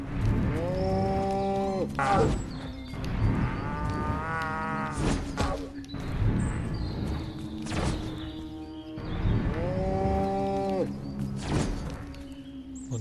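Cattle in the video game Destroy All Humans moo repeatedly, loud and close, several drawn-out calls in a row over a steady game background hum with occasional thumps.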